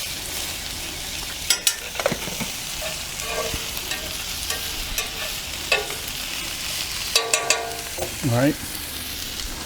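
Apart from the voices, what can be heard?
potatoes and mushrooms frying in olive oil in a pan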